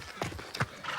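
A horse being urged to move off, heard briefly and faintly: a couple of soft hoof clops and a short snort or whinny-like breath, close by and alone.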